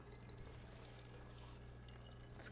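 A thin, quiet stream of essential oil mix pours into water in a spray bottle, a faint continuous trickle over a low background hum.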